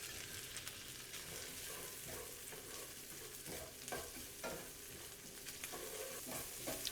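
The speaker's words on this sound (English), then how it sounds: "I'm going to turn my heat up a little bit and just add my carrots until they're starting to cook." Thinly sliced carrots sizzle and crackle steadily in a hot pan over turned-up heat, heard close with a few scrapes of stirring and no voices.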